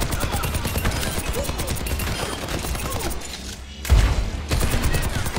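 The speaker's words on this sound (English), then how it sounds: "activate your tactical visor and destroy the training bots" Rapid automatic gunfire from Soldier 76's tactical visor in an Overwatch 2 training range, dense bursts of shots hitting training bots, a short gap and a heavy impact, then more firing.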